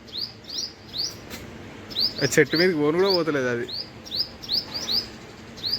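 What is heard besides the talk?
small birds chirping around a squirrel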